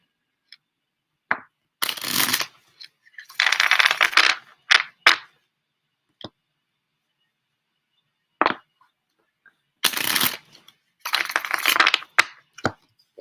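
A deck of reading cards is shuffled in short, separate bursts of crisp riffling and snapping, with quiet pauses between each pass and a few sharp taps as the cards settle.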